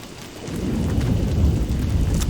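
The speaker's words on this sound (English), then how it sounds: "Actually, it's begun to storm again." A thunderstorm in the video game Don't Starve brings steady, heavy rain hissing and a low thunder rumble that swells and holds, with no speech.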